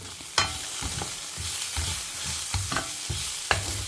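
Finely chopped onion sautés in a pan, a steady soft sizzle broken by repeated scraping stirs of a spoon, with sharper knocks against the pan now and then.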